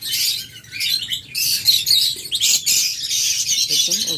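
A green-cheeked conure at a bird seller's gives shrill, rapid chirps and squawks, loud and close. The calls run almost continuously over a low background murmur.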